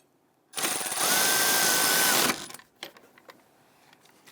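A power tool whirs in one steady burst of about two seconds, snugging the caliper bracket bolts on a Dodge Charger. Light clicks and clanks of handling follow after it stops.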